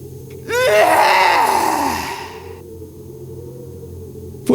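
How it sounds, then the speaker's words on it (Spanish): Deafening scream sound effect in a horror story narration: one loud, long, wavering shriek that slides downward and fades over about two seconds, alone with no talk. "un grito ensordecedor sonó por toda la casa, un grito que nos hizo caer al piso"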